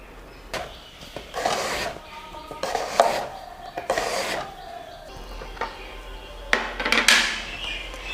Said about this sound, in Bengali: বাকি বেগুনটাও আমি এখন কেটে নেব